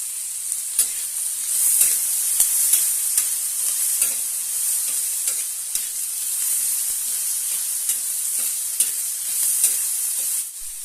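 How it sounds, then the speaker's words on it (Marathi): Five or six garlic cloves sizzle and fry steadily in a pan for a spicy tomato thecha, with a continuous bright hiss broken by occasional stirring clicks and scrapes, close and fairly loud. "पाच सहा लसणाच्या पाकळ्या घालूया"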